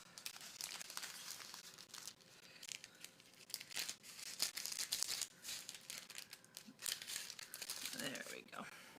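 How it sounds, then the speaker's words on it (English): Parchment paper peeled slowly off a freshly baked pumpkin roll cake, giving crinkling, rustling and faint tearing sounds throughout, close and soft, with a person talking over it at times. "take the parchment paper off."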